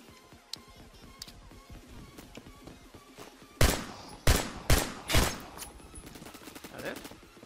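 Gunfire in Roblox Phantom Forces rings out as four loud, spaced shots from a sniper rifle after a stretch of quieter background game noise and distant shooting, with someone talking throughout.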